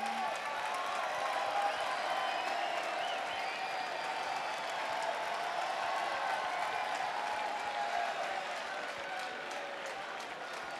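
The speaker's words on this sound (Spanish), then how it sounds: "Así que un fuerte aplauso para enseñar, Karina" Audience applause for Karina at a Mr Gay Pride Spain gala, steady, sustained clapping from a crowd heard at a moderate distance throughout with no pause.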